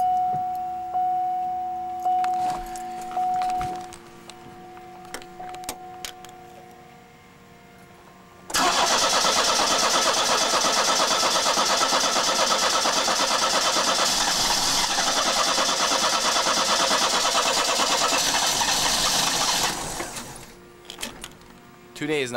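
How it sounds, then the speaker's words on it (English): A car engine cranks and catches after a quiet stretch, then runs loud and steady for about eleven seconds before cutting back, with a voice briefly audible near the start. "Let us see if the car will start today"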